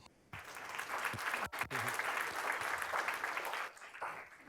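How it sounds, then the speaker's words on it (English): A lecture-hall audience gives a round of applause to lecturer Marcos Parga, steady, moderately distant clapping that starts suddenly, holds for about three seconds and thins out toward the end. "Help me thank, with a big applause, Marcos Parga"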